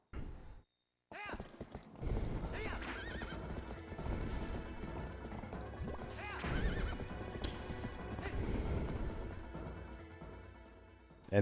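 Horse neighing in The Legend of Zelda: Twilight Princess, whinnies rising over galloping clip-clop hooves and game music, loud and continuous through the scene after a brief silent gap at the start.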